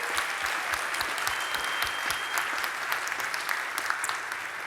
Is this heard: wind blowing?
no